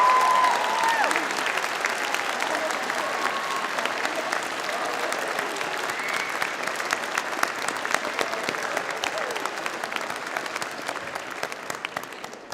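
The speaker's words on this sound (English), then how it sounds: "Graduates, a round of applause for family and friends." Graduation convocation audience applauding family and friends, a long, dense, steady roar of many hands clapping that holds for over twelve seconds and tapers slightly at the end.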